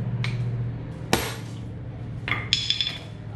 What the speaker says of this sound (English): So hand impact, put screwdriver in, turn direction you want to go.